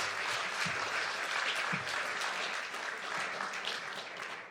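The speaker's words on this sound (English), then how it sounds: "A round of applause for our candidates." An audience at a school board candidate forum in a church applauds steadily for several seconds, a dense even clapping that slowly fades.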